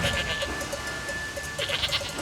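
Quick, repeated goat bleats come in a lively series, close and fairly loud, with a faint steady ringing tone in the background.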